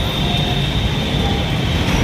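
A train rolls across Naini bridge in Prayagraj, a steady, loud, continuous rumble with rail hiss that holds evenly throughout, with no voices over it.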